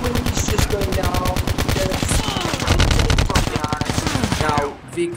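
Rapid automatic gunfire in the mobile shooter game Call of Duty Mobile, with loud, dense bursts of shots running nearly throughout before cutting off near the end.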